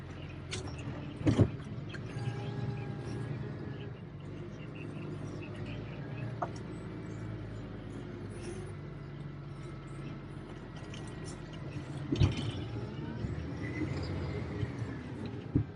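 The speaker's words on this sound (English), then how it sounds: "So now you're pushing it out of the street." A City of Lansing snowplow truck pushes snow out of a residential street, a low steady engine rumble and scraping drone with a couple of louder knocks, fairly quiet and continuous.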